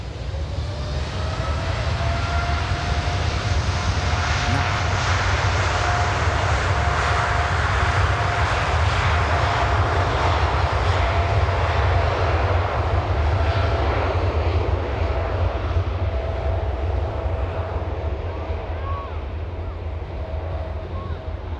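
A large airplane takes off from runway 09 at Miami with a loud, continuous engine roar that holds steady and then slowly eases as the aircraft climbs away, and wind rushes across the microphone.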